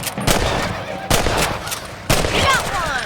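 Three loud rifle shots, about a second apart, fired at rabbits in the western video game Red Dead Redemption, each a sharp crack with a short ringing tail, close and alone.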